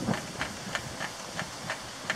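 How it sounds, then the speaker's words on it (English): An 1891 Russell portable steam engine puffs exhaust steam in a regular rhythm of short hissing chuffs, about three per second, moderately close and heard alone. "it's mostly exhaust steam"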